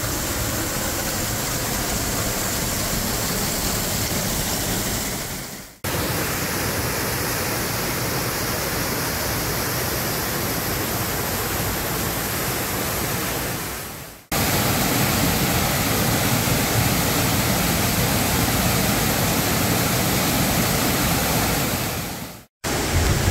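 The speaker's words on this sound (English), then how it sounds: "We're back in behind the waterfall now." Camp Creek Falls roars from directly behind the falling water, a loud, close, continuous rush of white noise broken only by two brief cuts.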